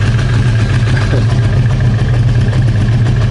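A nearly 30-year-old Honda CBR 900 Fireblade running on a small amount of fuel while its running issues are diagnosed, a loud, steady low idle with a rhythmic throb close by, no voices.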